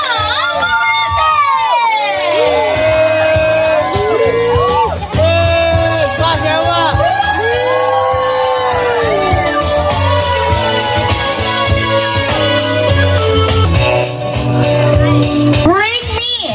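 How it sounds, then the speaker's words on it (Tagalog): A party crowd at a celebrant's family celebration cheers and shouts loudly and continuously, with children's voices and whoops layered over music and talk throughout. "Ayan, ang mga kasamang hiyawan!"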